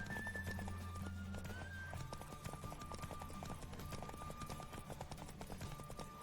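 Rapid rhythmic hoofbeats of a galloping horse in The Witcher 3: Wild Hunt, with game music underneath, steady and continuous throughout.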